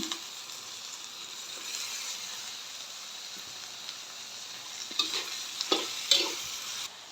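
Soybean chunks frying in a spice tempering in a pan, a steady oil sizzle with a few sharper scraping strokes near the end as the mix is stirred. No voices.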